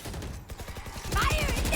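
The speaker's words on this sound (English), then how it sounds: "That's a lot of gunfire." Gunfire during a Valorant esports match, a rapid burst of shots crackling over game audio and faint caster talk in a brief, dense clip.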